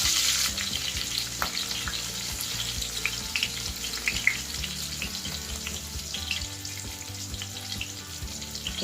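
Green chillies sizzle and spit steadily in hot oil in a pan while poha chivda is being made, a continuous close frying crackle with occasional stirring clinks and no talk.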